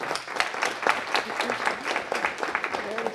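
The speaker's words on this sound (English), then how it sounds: "everyone give them a round of applause as well" Council meeting audience giving guests a round of applause, with a lively burst of sharp, close hand claps mixed with voices talking over them.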